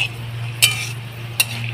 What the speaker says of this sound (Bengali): দুটো লবঙ্গ, আর একটু এলাচ। দেখুন দিয়ে আমি এই উপকরণটা একটু ভালো করে ভেজে নেব